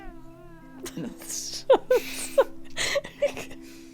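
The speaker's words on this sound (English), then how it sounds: "loudest fucking cat I've ever heard" A very loud cat meows repeatedly in a prison setting, several sharp, strained caterwauls in close succession, with voices talking around and between the cries.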